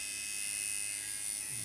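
A tattoo machine runs an Inkclaw cartridge with the hardest membrane and a relatively short needle length out, giving a steady, close electric buzz that holds evenly for the whole moment.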